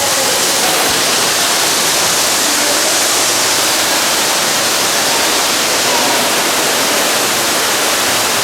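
Underground waterfall in Niagara Cave, a constant broad roar of falling water that fills the whole space, loud and unchanging throughout with no voices.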